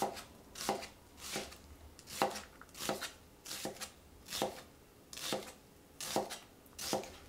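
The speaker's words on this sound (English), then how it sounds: "I'm using 2 medium-sized onions, which I'm going to chop fine." Two medium onions chopped fine with a knife on a cutting board: about ten evenly spaced crisp chops in a steady rhythm, close and fairly quiet, with no talking.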